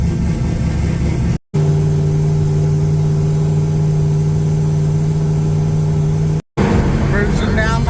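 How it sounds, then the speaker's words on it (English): A car with a recently patched radiator and newly fitted thermostat cruises along a highway, giving a steady, loud engine drone with a constant low hum throughout, broken by two brief silent gaps. "Cruising down the highway."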